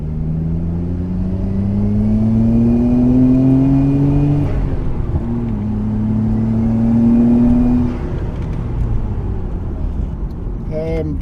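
A 1999 Nissan Skyline R34 GTR V-Spec N1 accelerates hard, its engine note climbing steadily through a gear, dropping at the shift, then rising again, loud and close from inside the car.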